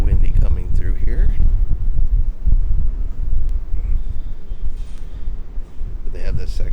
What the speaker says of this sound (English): Up here, definitely really windy coming through here.